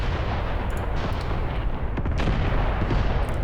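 Artillery fire in the tank war game Graviteam Tactics Mius, dense rumbling booms and blasts rolling together into a continuous heavy barrage, with no voices over it.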